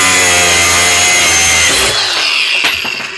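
A Craftsman brushless 20V angle grinder with a cutting wheel slices through a metal bolt, a loud high-pitched whine and grinding screech that drops in pitch partway as the wheel bites into the steel.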